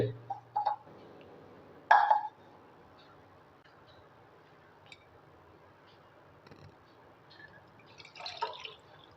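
Lemon weight-loss drink is strained: a few short splashy bursts of liquid, with sparse faint drips in the quiet between them.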